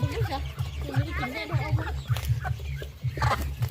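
Big and small chickens cluck low and steadily while feeding on a farm, a rhythmic run of soft clucks under a person talking over them.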